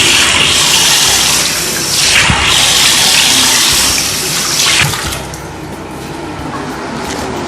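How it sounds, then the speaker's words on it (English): Plain water splashes as a face is rinsed during a homemade cucumber facial, close irregular bursts of splashing and running water with brief pauses, no talk. "Now I'm going to wash my skin with the normal water."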